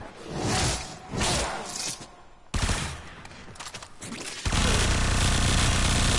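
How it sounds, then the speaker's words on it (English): Supra Vandal, a fast-firing weapon in the game Warframe, fires rapid bursts of gunfire with impact crashes, ending in a loud, dense, continuous stream of shots. "This is definitely one of the fastest firing weapons in the entire game."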